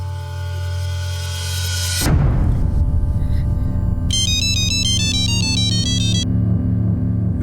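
A phone rings with a repeating electronic ringtone melody after a sudden shift in background noise, steady and fairly close.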